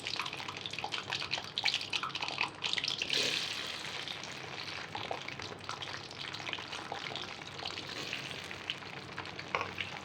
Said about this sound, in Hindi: इसके अंदर अब हम लसूड़े डालेंगे और फ्राई करेंगे